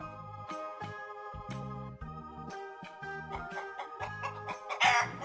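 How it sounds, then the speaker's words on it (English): Clucking from a chicken comes in over a steady, playful backing tune in a children's animal sound game, with a brief louder burst near the end. "A chicken says, cluck,"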